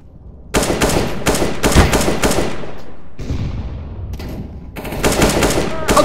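Rapid automatic gunfire in CS:GO during a competitive clutch round, with dense bursts of shots running nearly continuously, a brief lull, then more firing, loud and close with a faint voice underneath.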